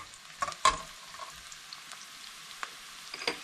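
Sweet South Indian tomato chutney frying in a pan, a quiet steady sizzle broken by a few sharp stirring taps near the start and toward the end.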